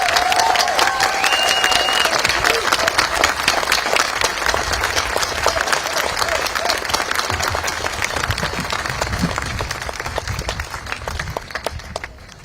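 A large audience at a memorial event honoring journalists bursts into sustained applause, dense overlapping clapping that fills the room for over twelve seconds and slowly thins toward the end.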